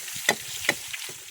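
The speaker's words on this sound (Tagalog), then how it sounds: "prito-prito tayo ng tilapia" Tilapia frying in a pan of hot oil: a steady sizzling hiss, broken by a few sharp spits and pops, close by and with no one talking.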